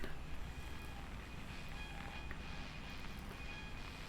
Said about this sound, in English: Where does the train come from?